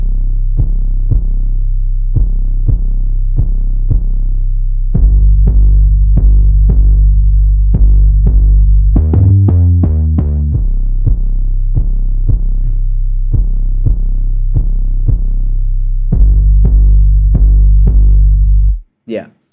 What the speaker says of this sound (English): So the 808 alone sounds like this.